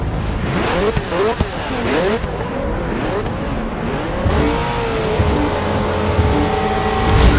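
2015 Nissan Motorsport Altima V8 Supercar, number 23, in Forza Motorsport 6 at the Stormfront shootout, engine revving hard through repeated gear changes with rising and falling pitch, loud and close, settling into a sustained drone.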